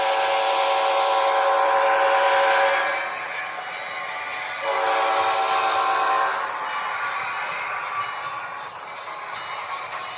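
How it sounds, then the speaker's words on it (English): A model train's horn sounds in two long blasts at a model railroad crossing, with rumbling passage of cars beneath, moderately loud and steady. "end a good ops session with a railroad crossing"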